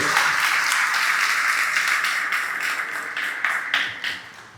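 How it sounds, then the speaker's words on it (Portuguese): Church congregation applauding during an evening worship service, a dense, steady wash of many hands clapping at close range that thins and fades toward the end, with no talk over it. "Dá um aplauso a Jesus nessa noite."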